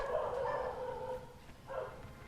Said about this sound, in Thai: โอ้ยหมาแถวบ้านก็เห่าอีก